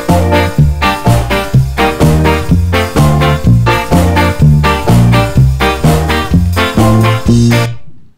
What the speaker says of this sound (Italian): Faccio quattro battute con le note lunghe e quattro battute con il pollice.